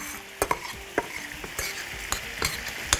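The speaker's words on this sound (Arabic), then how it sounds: "اقلب، ابتدي احط معلقه كده من البصل" White onion frying in butter, stirred with a spoon: a steady close sizzle broken by several sharp scraping and clinking strokes of the utensil against the pan.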